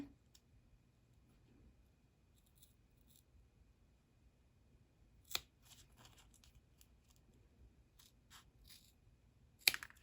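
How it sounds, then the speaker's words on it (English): A couple of sharp snipping clicks of scissors stand out against a quiet background, with faint scattered rustles and taps between them, during machine-embroidery craft work. "these scissors probably weren't the best, but they were the first ones I grabbed"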